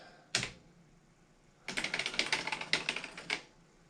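Amstrad CPC 6128 computer keyboard: one isolated keystroke, a pause, then a quick run of crisp clicking key presses, close and clear with no voices.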